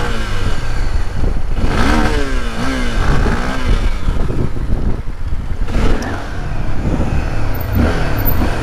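A Honda XRE motorcycle revs hard on a hillside street during wheelies. Its loud engine surges and falls in repeated rising sweeps, with no pauses.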